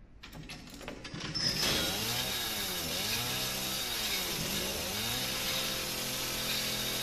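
A chainsaw in the horror video game Resident Evil 7 starts with a few pulls, then roars continuously at close range, its pitch sweeping up and down as it revs.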